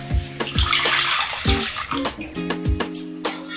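Liquid milk, about one and a half cups, is poured into butter and flour in a pan, giving a close, splashy trickle with small glugs and gurgles over a few seconds.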